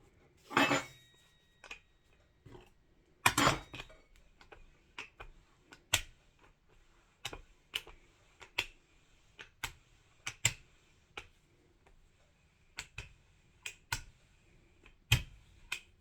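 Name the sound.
rolling out egg noodle dough with a rolling pin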